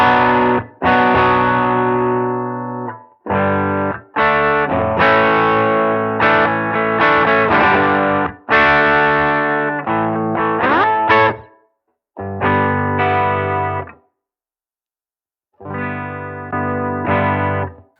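Electric guitar through an MXR Fat Sugar overdrive pedal playing chords and short riffs, thick and crunchy, with brief gaps of silence between phrases and no talking.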